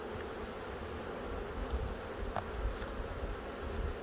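Honey bees hum steadily around a crowded hive in early fall, a dense, continuous drone with faint outdoor noise beneath.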